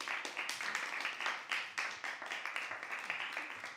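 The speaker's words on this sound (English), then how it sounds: "Another round of applause for Anna." A small audience at a poetry and prose reading claps for a performer, with quiet, fairly close applause of irregular individual claps running throughout and a few voices murmuring underneath.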